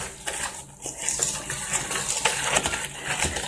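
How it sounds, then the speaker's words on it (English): A whisk clinks and rattles quickly against a bowl while sweet potato cheesecake filling is mixed, busy close metallic tapping and scraping throughout with no voices. "I'm going to just mix this real good with my whisk"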